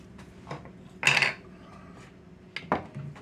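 Cooked sweet potato scooped out with a utensil, a few soft scraping sounds and two sharp clinks of metal against a dish, spaced apart amid quiet background.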